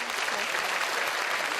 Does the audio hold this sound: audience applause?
yes